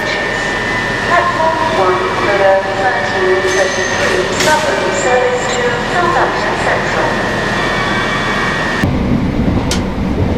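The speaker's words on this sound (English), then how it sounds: "Right, this is the train to Southampton." Steady rail rumble and hum from inside a UK train heading to Southampton, with some talking in the carriage, before the sound shifts abruptly near the end.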